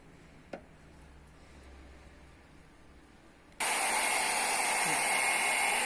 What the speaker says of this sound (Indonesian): Jadi kita menggunakan hair dryer, kemudian termometer, kita panaskan sampai